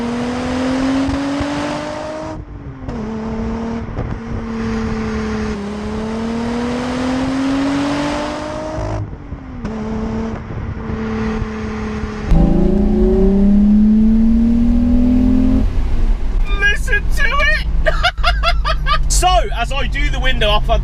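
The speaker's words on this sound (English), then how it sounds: "onwards to some glorious VR6 noises and some B-roads." A 1995 VW Corrado VR6 Storm engine pulls steadily through the gears on country roads. The tone rises and falls as it revs, shifts and accelerates, growing louder and rougher midway, and a voice talks near the end.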